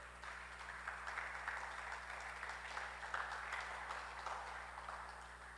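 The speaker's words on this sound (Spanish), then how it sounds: "Le da un aplauso usted al Señor." Church congregation clapping in praise, a faint, steady patter of many hands under a low electrical hum, continuous throughout.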